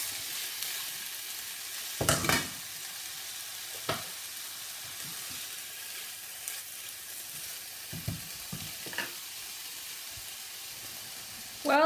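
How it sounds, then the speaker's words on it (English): Chicken sizzles steadily in a hot pan over medium heat, with a few louder scrapes and clatters as it is stir-fried. "I'm going to stir fry my chicken"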